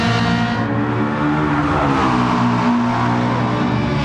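Race cars in the Gran Turismo 7 video game crossing the finish line at Tokyo in a multiclass race, engines droning loud and steady with layered revving harmonics throughout, no talk.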